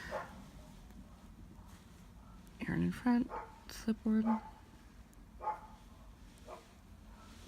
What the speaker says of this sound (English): neighborhood dogs are going crazy